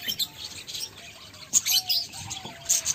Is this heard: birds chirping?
yes